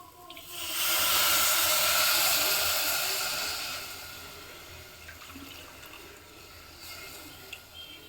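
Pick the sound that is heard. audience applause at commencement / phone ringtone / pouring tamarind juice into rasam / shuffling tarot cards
pouring tamarind juice into rasam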